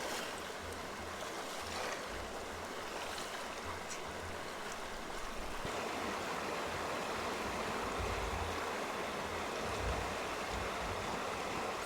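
Water swirls and washes across a gold pan as a first-time panner works the material, a steady, gentle rushing and sloshing that stays soft and continuous throughout.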